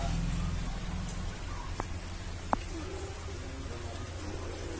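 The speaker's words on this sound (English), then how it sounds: "it's raining all over" Rain falls steadily outside a house with a small garden in Odisha, a constant soft hiss with a couple of sharp drip or tap sounds nearby and faint background voices.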